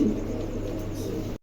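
A large pair of fancy pigeons offered for sale, with low throaty cooing close by over a steady dull hum, carrying on evenly before cutting off abruptly.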